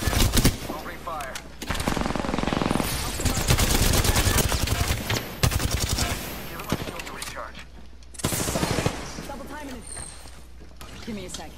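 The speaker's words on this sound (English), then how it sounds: "Opening fire." Apex Legends gameplay with rapid bursts of automatic gunfire, loud and close, interspersed with clattering weapon and game effects while a voice speaks over parts of it.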